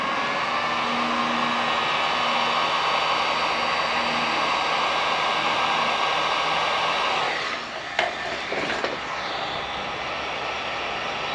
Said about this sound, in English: we're gonna heat shrink that shrinkage